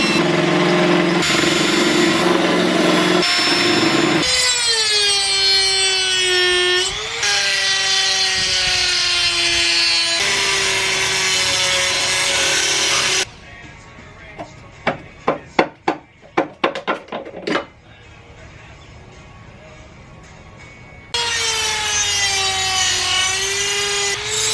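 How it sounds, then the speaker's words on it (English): An angle grinder grinding weld beads off an Evo 5 transmission being built for a DSM Eclipse. A loud, steady whine changes pitch as the disc bites, then pauses for a stretch of scraping knocks before grinding again. "So have a little fun grinding all that junk out."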